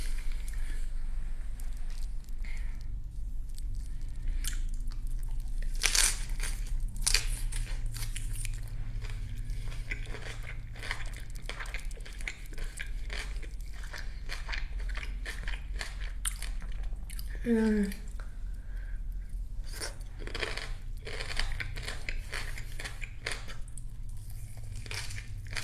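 Close-up bites and crunchy chewing of Korean bossam boiled pork lettuce wraps with jalapeno and garlic, wet mouth sounds and crinkles repeating irregularly under quiet room tone.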